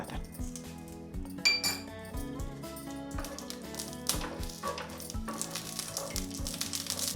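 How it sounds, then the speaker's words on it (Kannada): Green chillies roasting in a drop of oil in a pan, with steady sizzling under repeated metal clinks and scrapes of a utensil against the pan, close and fairly loud throughout. "ಮೊದಲಿಗೆ ನಾನು ಮೂಲಂಗಿ ತದ್ದು ಮಾಡ್ಕೊಳ್ಳೋಕ್ಕೆ ಹಸಿಮೆಣಸಿಕಾಯಿ ಹುರ್ಕೊಳ್ತಾ ಇದ್ದೀನಿ."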